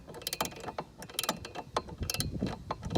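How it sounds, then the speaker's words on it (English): A ratcheting box wrench tightens a 13mm nut on a bracket for a Jeep JL, producing rapid close ratchet clicks in quick repeated bursts with no talk. "I prefer a box wrench for this, a ratcheting one"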